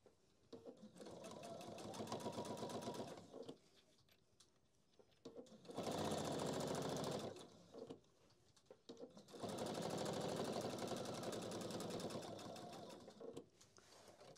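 A sewing machine stitches a handbag organizer in three loud bursts of rapid, even stitching, separated by short quiet pauses while the fabric is turned.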